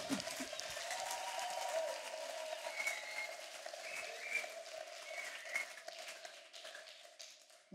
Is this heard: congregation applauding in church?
yes